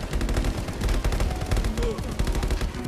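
A gun fires in the VR shooter game Contractors, its rapid, loud shots running continuously in a dense burst for a few seconds.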